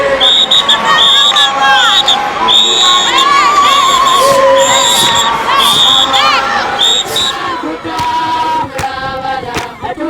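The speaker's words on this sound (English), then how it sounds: "Women usually accompany men's dances with clapping and high-pitched ululations called" Women at a Lesotho dance clap while piercing, high-pitched ululations ring out over a loud, dense crowd, the trilling cries rising and falling continuously throughout.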